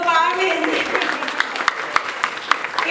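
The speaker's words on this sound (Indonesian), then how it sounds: "Oke, yang pertama, tepuk tangan dulu Pak Amin." Applause at a new-student university orientation session: scattered claps ring out in a hall under a presenter's continuing speech.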